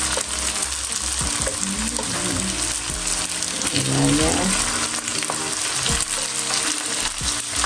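Dumplings fry in a coat of oil in a pan, a loud, continuous sizzle with stirring clinks throughout, and a brief spoken word over it.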